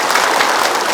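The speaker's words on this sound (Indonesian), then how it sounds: "Boleh tepuk tangan." Studio audience applause on an Indonesian Islamic sermon program, a dense steady wash of many hands clapping at close range with no voices over it.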